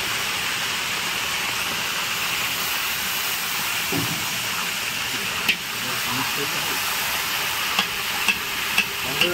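Food fries in a pan at a family winter picnic, a steady broad hiss and sizzle running throughout, broken by a few sharp clicks near the end.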